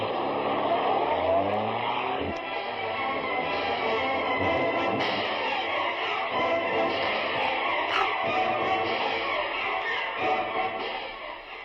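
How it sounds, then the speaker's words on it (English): A car driving in an old-time radio drama, its engine droning and shifting pitch as it accelerates, loud and continuous with no voices over it. "While you drive me out to the old warehouse on River Road, I'll put on the Hornet disguise"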